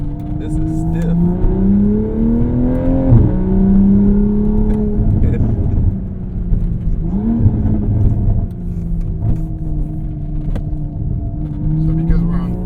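A track-built Toyota Supra's engine revs and accelerates from inside the cabin, a loud droning tone rising in pitch through several gear pulls with dips between shifts, while people talk over it.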